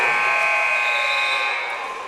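An end-of-quarter buzzer at a Bonanza Antlers vs Myrtle Point Bobcats high school basketball game, a loud, steady electronic drone that holds for about two seconds and trails off slightly at the end.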